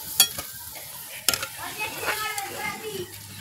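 Potatoes deep-fry in oil for homemade potato chanachur amid a soft background sizzle, punctuated by sharp metal clinks and scrapes of a slotted spoon lifting pieces, close and fairly quiet.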